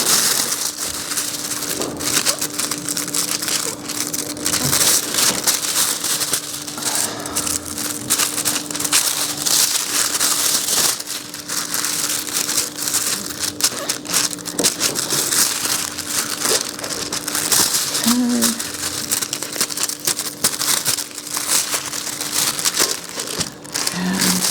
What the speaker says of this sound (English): I'm going to come in with my hands and the foil and just touch up the spots